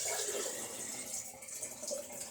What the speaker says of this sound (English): I'm actually going to go ahead and put this water directly into